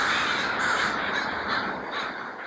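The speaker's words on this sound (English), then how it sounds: "When the sun goes down on the University of Washington, Bothell, thousands of crows come to campus." Thousands of crows gather at dusk on the University of Washington Bothell campus, a dense, loud chorus of overlapping caws that fills the air continuously without pause.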